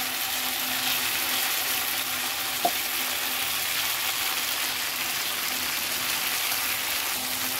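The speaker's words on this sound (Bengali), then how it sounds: "এবার আমি পরিমাণ মতো জল দিয়ে" Water poured into a pan of vegetarian dish for a home-cooked lunch brings a steady, even sizzle with one brief clink, loud and continuous throughout with no voices.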